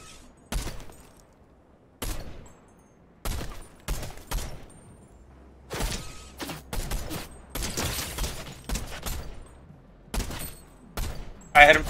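Fortnite gunfire from a shielded fight at range: sharp shots arrive in short bursts and single cracks across the stretch, fairly loud, with a player talking between and over them.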